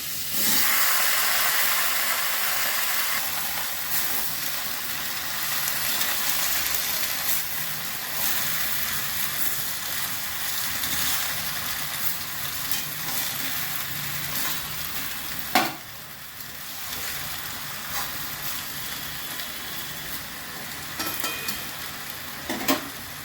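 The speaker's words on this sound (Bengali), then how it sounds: "এবার পুঁই কুমড়ো ঢেলে দিচ্ছি।" Malabar spinach and pumpkin poured into a hot pan with cumin powder and green chillies, frying with a steady broad sizzle and hiss throughout, close up, with a few sharp clatters of stirring and no talking.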